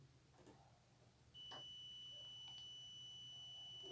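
A multimeter in continuity mode beeps while testing a refrigerator defrost heating element of about 26 ohms, a sudden steady tone that starts after a quiet moment and holds to the end.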